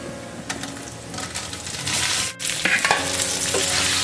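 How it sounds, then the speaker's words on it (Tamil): Boiled mani kolukattai rice dumplings are stirred in a hot pan with a spatula, giving scraping and clinking strokes over a steady sizzle that rises midway, with no talking. "ஆட் பண்ணிவிட்டு இதை நல்லா மிக்ஸ் பண்ணி விடுங்க."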